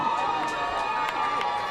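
A high school playoff football crowd hooting from the near-side stands at a Deerfield Beach vs Flanagan game, a brief steady roar of many voices with whistling, hooting tones rising above it.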